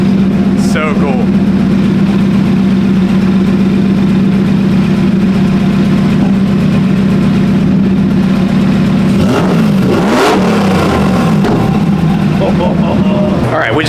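A turbocharged Ford Mustang on a dyno holds a loud, steady engine drone close up, then revs sharply with a rising and falling surge near the end, with people talking over it.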